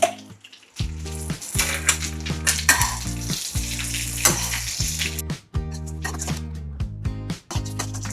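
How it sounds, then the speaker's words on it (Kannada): Walnuts, pistachios, almonds, cashews, sunflower seeds and pumpkin seeds dry-fry in a pan over a medium flame for a dry fruit laddu, giving a steady sizzle and rustle with stirring scrapes over tonal background music. "ನಾನು ವಾಲ್ನಟ್ಟು, ಪಿಸ್ತಾ, ಬಾದಾಮಿ, ಗೋಡಂಬಿ ಜೊತೆಗೆ ಸನ್ಫ್ಲವರ್ ಸೀಡ್ಸು, ಪಂಪ್ಕಿನ್ ಸೀಡ್ಸು ಎರಡನ್ನೂ ಹಾಕ್ಕೊಂಡು ಫ್ರೈ ಮಾಡ್ಕೋತಾ ಇದ್ದೀನಿ."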